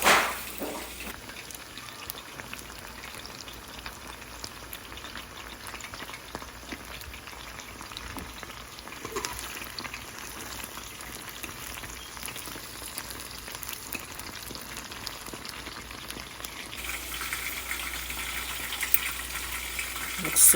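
Chicken wings frying, a steady crackling sizzle of hot oil that holds evenly throughout with occasional louder pops.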